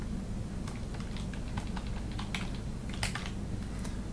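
Computer keyboard typing at a steady close-up pace, a run of quick key clicks with a few louder taps, heard alone without talk over it.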